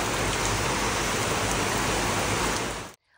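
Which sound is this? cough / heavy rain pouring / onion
heavy rain pouring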